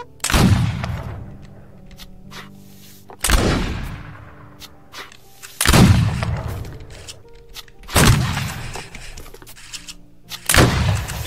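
Musket volleys fired by file in a Roblox regiment game, five loud cracking booms spaced about two to three seconds apart, each trailing into a decaying rumble, with little talk.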